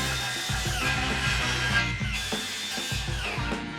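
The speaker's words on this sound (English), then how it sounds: "Drive the saw through the material on the measured mark without using too much pressure." Power saw cutting material for a pantry frame, a loud continuous motor whine with a rough buzzing edge that wavers as the blade pushes through, close by.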